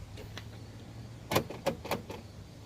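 A Cadillac CTS-V's power door locks actuate on their own, producing a few faint quick mechanical clicks and clunks in a cluster against a quiet, low-humming background.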